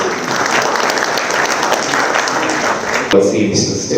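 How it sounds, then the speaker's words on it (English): Crowd applause welcomes a government official at a public event, dense clapping that runs steadily before a sudden shift near the end, as if cut to another sound. "Please, let's give him a round of applause"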